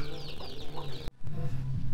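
Farm chickens cluck close by in a short burst of repeated low throaty calls, broken by a brief sharp knock partway through, with no one talking.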